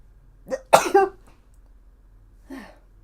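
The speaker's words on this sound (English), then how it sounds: "I'm gonna sneeze, hold on." A single sharp sneeze bursts out close up, preceded by a quick intake of breath and followed by a soft exhale.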